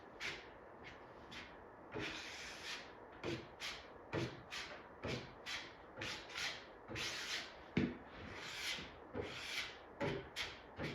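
Body filler being spread with a spreader on a Chevy long bed pickup truck during bodywork, a steady series of rhythmic scraping strokes, close and fairly quiet, with no talking.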